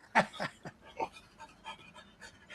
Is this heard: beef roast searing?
no